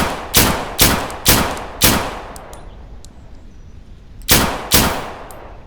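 A 9mm pistol firing in the survival shooter Deadside: four sharp, loud shots at a steady pace, a pause with faint mechanical clicks, then two more shots, each with a short ringing tail.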